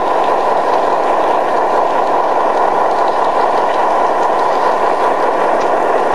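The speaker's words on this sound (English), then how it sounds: "he's starting it up again and pulling his train away" A live steam model train on a garden railway layout rolls steadily with a continuous close chuffing rumble and faint rail clatter, with no voices present.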